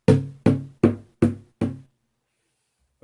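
A hand drum struck at its centre while the other hand mutes the head gives five short, damped knocks in an even rhythm, each decaying quickly, close and alone.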